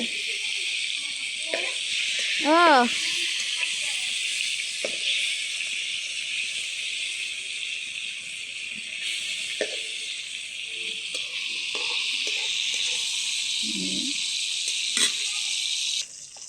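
Fish frying in oil gives off a steady, bright sizzling hiss that runs for the whole stretch, with a few soft clinks and a brief voice cutting in over it.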